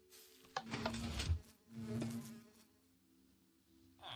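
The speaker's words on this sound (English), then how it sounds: "wait for the bees to leave the house." Buzzing bees around hives in the Minecraft video game, a soft droning hum that swells twice and then fades to near silence, with a faint return at the end.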